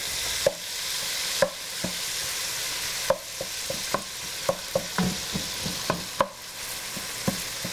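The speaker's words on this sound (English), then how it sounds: "Stir it up." Food seasoned with salt and cayenne sizzling in a pan as a utensil stirs it, with a continuous hiss broken by irregular sharp scrapes and knocks against the pan, close and alone.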